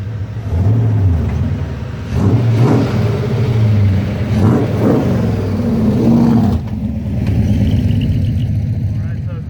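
V8 engine idling at about 700 RPM on a lawn mower carburetor, a loud, close, uneven low rumble with a few throttle blips, under someone talking throughout.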